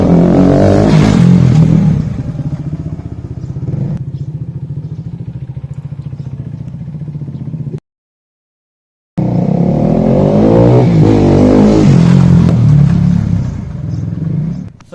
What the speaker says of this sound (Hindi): तो चलिए अभी देखते हैं थोड़ा रनिंग करके इसको, बाइक को चला के कैसा फील करता है साउंड।